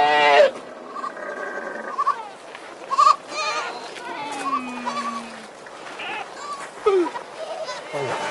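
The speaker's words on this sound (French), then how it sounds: "il a des chèvres et des moutons" Goats and sheep bleat, rising and falling over a busy outdoor desert background, with people talking nearby; several calls come in short bursts spread across the scene.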